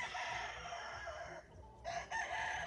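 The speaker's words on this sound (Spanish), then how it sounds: "Gallos, de verdad, de primer nivel." Roosters at a gamecock farm crow loudly over a dense chorus of clucking fowl, the calls overlapping continuously with a brief dip in the middle before the crowing swells again.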